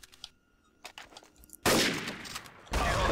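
Bursts of gunfire in the video game Counter-Strike: a loud, dense volley breaks out after scattered quieter sounds, pauses briefly, then erupts again close up.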